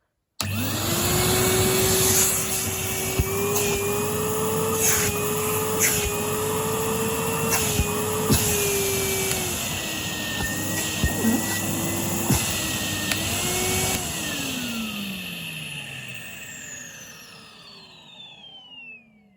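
A Henry HVR200A vacuum cleaner from 2012 or 2013, cleaned and repaired, runs its motor with a loud, steady low-pitched drone and whine for several seconds, then winds down and fades as it spins to a stop.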